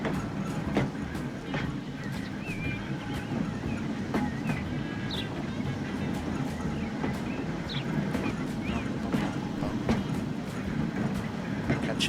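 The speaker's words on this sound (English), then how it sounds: "Catching back up with another purple tram." A purple commuter tram runs in a video game with a steady, loud rolling rumble and broad hiss, plus scattered faint clicks and metallic ticks throughout.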